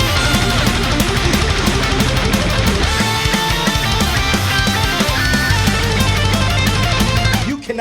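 Dense, loud power metal playing continuously with full band distortion and fast drumming, cutting off abruptly at the end.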